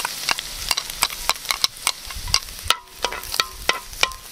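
Garlic sautéing in a pan for stir-fried balut, with a soft sizzle beneath repeated sharp scrapes and taps of a spatula stirring, close and fairly loud throughout.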